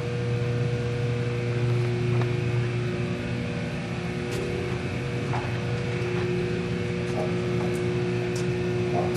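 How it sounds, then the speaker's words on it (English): A Cummins 230 kW genset powered by a six-cylinder NT400-G6 diesel runs at a steady drone, a continuous loud engine hum with stable harmonic tones and no voices. "This is Cummins 230 kW Genset, powered by a six-cylinder Cummins diesel, model"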